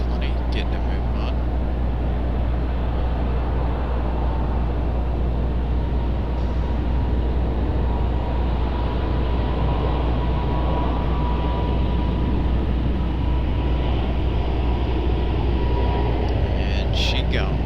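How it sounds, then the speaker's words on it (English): JetBlue Airbus A220 jet taking off, a loud, steady low engine roar and rumble that holds throughout without much change. "Right now we've got JetBlue's A220 getting a move on"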